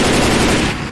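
Assault rifle fire in a video game, a loud, close, rapid burst of shots lasting about a second.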